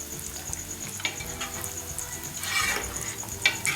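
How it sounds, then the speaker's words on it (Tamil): Bread slices for shahi tukda fry in hot oil with a steady close sizzle, broken by sharper crackles and pops, and no talking. "இது எல்லா ப்ரெட்டையும் பொரித்து எடுத்துக்கலாம்."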